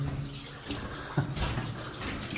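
Water pouring steadily out of a rock fault inside an underground mine, a continuous splashing rush that fills the space, with a brief sharper splash partway through and no talking.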